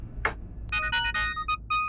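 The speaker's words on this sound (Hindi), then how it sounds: "रॉबी अंकल, डॉक्टर मेंडोजा का फोन।" Phone ringtone for an incoming call: a short sequence of bright electronic tones in quick rhythmic pulses, close and clear, repeating after a brief initial blip, with no talking over it.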